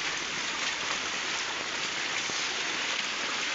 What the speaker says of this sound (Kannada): ನದಿಯ ಅಬ್ಬರ ತುಂಬ ಜೋರಾಗಿದೆ ಕಣ್ರಿ, ಒಳ್ಳೆ ನೀರು ಬಂದಿದೆ ನೋಡ್ರಿ